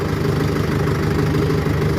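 A Mahindra 585 4WD tractor's engine idles with a steady, low, throbbing drone, close and even throughout, with no voices over it.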